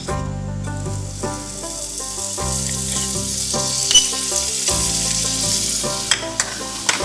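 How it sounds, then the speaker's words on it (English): Mushrooms sautéing in compound butter give a steady, close sizzle throughout, with occasional stirring scrapes and small pops over a dense hiss of frying. "So right now I'm just gonna saute these mushrooms for garnishing."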